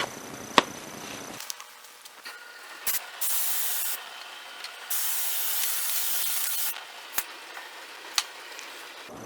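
Wood stain sprayed onto a floor transition piece indoors: a few separate bursts of steady close hiss, each lasting a second or two, with soft clicks and handling knocks between them and no voices.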